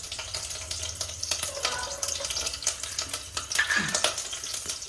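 Onion and garlic frying in oil in a pan, a steady hiss and sizzle with scattered stirring scrapes and clicks, close and moderately loud, no voices.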